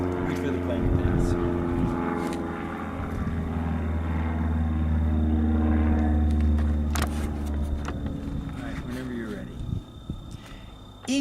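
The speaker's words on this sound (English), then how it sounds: "Wait for the plane to pass." A propeller airplane passes overhead at an outdoor shooting range, a steady low drone that swells and fades over several seconds while people talk nearby.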